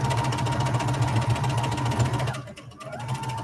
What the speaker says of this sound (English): Okay, do a little back stitch there. I'm just gonna sew all the way around.